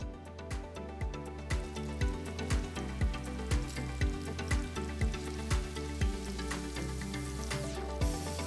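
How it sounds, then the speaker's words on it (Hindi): Capsicum frying in oil in a kadhai, a steady sizzle with regular clacking strikes of a spatula against the pan, about two per second, close and fairly quiet. "बिल्कुल ऐसे ही हमें कैप्सिकम को भी फ्राई करके निकालना है"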